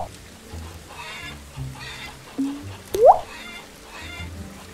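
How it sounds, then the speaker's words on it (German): Chickens inside a barn in the farming game Farmer's Dynasty, with a few scattered soft clucks and one sharper rising squawk over a quiet, faintly busy background. "ich hab das noch nie erlebt, dass die Hühner hier drin sind"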